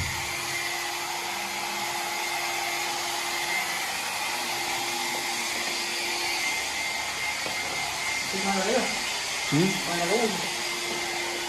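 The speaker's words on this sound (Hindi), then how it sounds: "ये हमारे साहिर भाई हेयर ड्रायर करते हुए" A hair dryer runs steadily through the whole stretch as a continuous broadband whoosh with a faint tonal whine, while people talk over it near the end.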